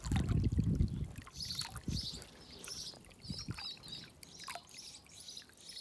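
Water trickles out of the end of a 200-metre garden hose, a faint, irregular dribbling that starts with a louder gush and then thins out, heard close in a quiet outdoor setting.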